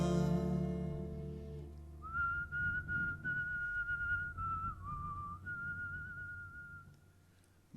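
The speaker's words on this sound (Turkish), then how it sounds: "Bir ıslık çal" A person whistles a steady, sustained tune with a few wavering pitch changes, starting after a brief tonal hum and fading out at the end.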